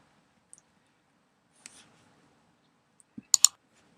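A computer mouse clicking while Reaper DAW is in use, with a few sparse, sharp clicks in quiet and a quick close double click near the end.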